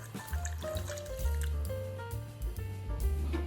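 About 200 ml of water poured into a pot holding chopped sausage, a short close splashing and trickling fill, heard alone.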